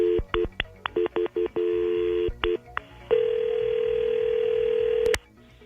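Telephone keypad tones as a number is dialed, a quick series of short beeps in uneven rhythm, then a steady ringback tone held for about two seconds before cutting off, clear and close.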